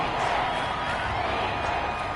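Steady, dense stadium crowd roar from an American football video game, Dolphins at Texans, a continuous loud wash of home-crowd noise with no distinct peaks throughout.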